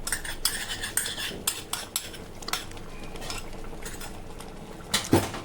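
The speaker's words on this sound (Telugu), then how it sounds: "తాలింపుని వేసుకొని బాగా కలుపుకోవాలి." Tempering is stirred into cooked dal in a metal pot, close up: a spoon scrapes and clinks irregularly against the vessel, with sharp knocks and a louder clatter near the end.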